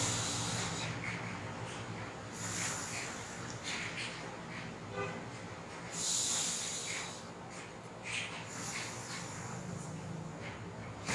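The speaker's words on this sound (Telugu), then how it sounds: "సో ముక్కు ద్వారా లోపలికి శ్వాస తీసుకుని దాని తర్వాత నోటి ద్వారా గాలి బయటకు వదులుతున్నప్పుడు ఈ లిప్స్ని విజిల్ వేసే విధంగా మనం పెడతామన్నమాట." Pursed-lip breathing exercise for post-Covid lung recovery: breath drawn in through the nose, then let out slowly through lips shaped as if to whistle. Several soft, hissing breaths come close and alone, with a stronger airy exhale partway through.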